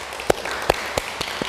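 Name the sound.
audience applause at Buddhist dharma assembly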